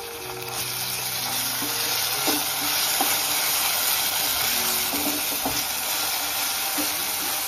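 Ground masala paste frying in hot oil for a Marathi vegetable curry, a steady close sizzle with occasional stirring scrapes and no talking.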